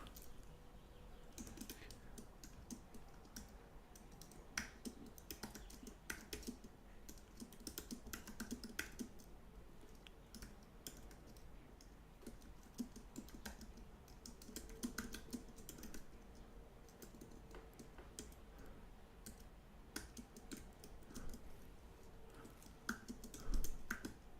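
Typing on a computer keyboard, a long run of faint, close key clicks in irregular bursts and pauses, with no voices over it.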